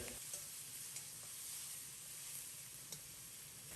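Tomatoes stir-fry over medium heat in a wok with garlic slices and chopped scallions, a soft, steady sizzle and hiss with a few faint scraping ticks, quiet and fairly distant, with no voices.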